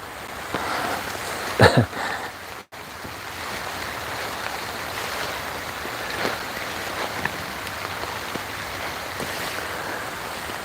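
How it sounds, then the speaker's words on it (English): Rain falls steadily in a forest, a continuous broadband hiss with a couple of louder gusty bursts early on and no voices. "It's raining."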